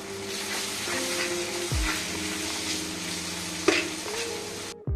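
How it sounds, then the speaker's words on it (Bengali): An egg is stirred into chicken spring roll filling sizzling in a pan, a steady loud frying hiss broken by a few scraping stirs and a sharp clank of the utensil against the pan near the end. "এবার দিয়ে দিলাম একটি ডিম এবং ভালো করে নেড়েচেড়ে নিলাম।"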